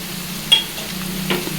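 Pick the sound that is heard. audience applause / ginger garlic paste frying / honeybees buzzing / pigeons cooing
ginger garlic paste frying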